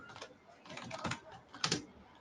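Rapid keystrokes on a computer keyboard, with clustered clicks and a few louder taps, close and clear, alone.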